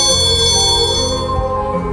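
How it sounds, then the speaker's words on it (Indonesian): A school bell rings loud and sustained for about two seconds, a bright continuous tone with steady ringing overtones and no speech. "Udah bel tuh, yuk kita pulang."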